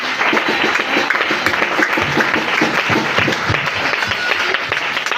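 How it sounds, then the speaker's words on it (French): A French-speaking Pentecost seminar congregation applauds Jesus with dense, steady clapping that holds at an even level throughout, with faint voices beneath. "Acclame Jésus."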